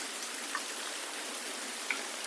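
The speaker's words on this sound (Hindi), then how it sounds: "मैं छतरी लेकर बारिश के बीचों बीच आ चुका हूँ" Heavy rain pours down steadily, heard up close from under an umbrella as a dense, even hiss with a couple of faint drip ticks and no voices.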